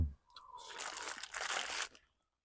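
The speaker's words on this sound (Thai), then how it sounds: "กระดูกมันจะกรอบสามารถเคี้ยวได้" Crunchy bones of small eel from an eel curry are chewed close to the mic, making a dense, crackling crunch that lasts about a second and a half after a brief squeak, then stops into silence; no talk.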